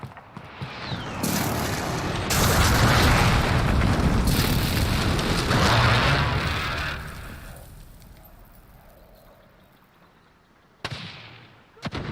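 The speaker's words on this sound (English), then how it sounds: "Friendly precision airstrike on the way." Precision airstrike explosions in the video game Call of Duty Modern Warfare: a long, loud stretch of heavy booming blasts and rumbling that fades out, followed by a couple of sharp late bangs.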